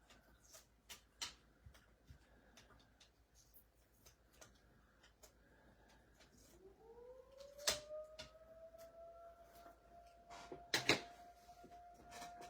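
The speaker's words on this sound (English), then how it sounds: "the tornado siren is going off." A tornado siren rises from about six seconds in and holds a steady, sustained wail in the distance, while sharp clicks and taps sound nearby throughout.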